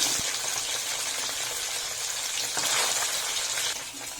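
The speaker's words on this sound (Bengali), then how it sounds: "বাকি পনিরগুলো এইভাবেই ভেজে নেব" Paneer cubes sizzle in hot oil in a pan, a loud, steady crackling hiss with bubbling spatter that continues unbroken and eases slightly near the end.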